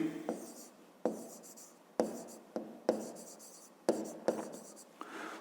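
Pen writing out a maths solution on paper, a series of short scratchy strokes in a steady rhythm, close and quiet, with no talking.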